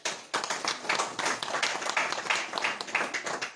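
An audience claps steadily and energetically to welcome a guest at a Shree Krishna Ramayan stage event. The applause is loud and dense and runs throughout without pause.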